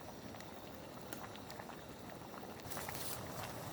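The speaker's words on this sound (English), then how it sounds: "Okay, this boiled plenty." A pot of water on a camp stove boils at a steady roll, bubbling and hissing close by. The sound gets a little louder near the end, and no one speaks.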